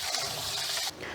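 Rice rinse water pours out in a steady broadband gush for under a second, then cuts off, leaving a faint trickle and drip, close and fairly loud.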